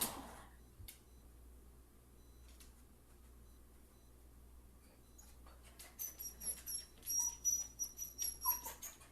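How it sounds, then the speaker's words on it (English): A dog left alone with separation anxiety whines and whimpers, starting sparse and quiet, then breaking into a rapid run of high, pleading cries near the end, close by over a low room hum. "Pacing and whining."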